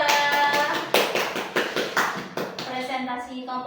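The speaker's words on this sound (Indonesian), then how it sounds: "tepuk tangan untuk kelompok 2" Classroom group applause for the second presentation team, a loose burst of hand claps and taps in a room with children, clapping under steady chatter and voices throughout.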